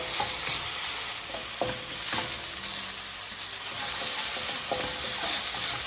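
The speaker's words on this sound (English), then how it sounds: "Stir them and cook for about 2 minutes until these aromatics are fragrant" Aromatics sizzle loudly in a hot pan over medium-high heat for spicy minced pork sauce, with a steady close hiss broken by several scraping stirs of a utensil, and no voices.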